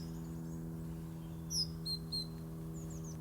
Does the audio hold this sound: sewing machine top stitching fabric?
no